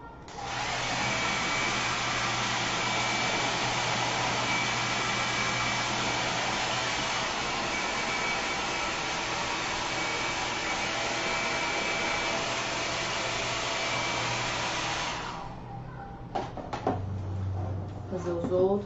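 A hair dryer blows a steady, loud whooshing hum over a box for about fifteen seconds, then cuts off, followed by a few light knocks and handling sounds.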